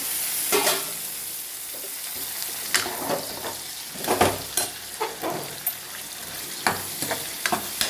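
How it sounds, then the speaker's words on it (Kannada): Ridge gourd (padavalakai) fries in oil with a steady soft sizzle, broken by scattered crackles and stirring scrapes from a spoon in the pan. "ಪಡವಲಕಾಯಿ ಒಂದು ಸ್ವಲ್ಪ ಬಾಗಲಿ ಅದು ಆಯಿಲಲ್ಲೇ ಚೆನ್ನಾಗಿ ಫ್ರೈ ಮಾಡ್ಕೋಬೇಕು"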